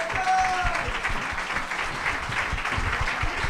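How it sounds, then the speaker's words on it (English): An audience breaks into continuous applause, a dense steady clatter of many hands clapping at moderate volume for several seconds, with faint speech underneath. "can everybody give Dawn a big round of applause?"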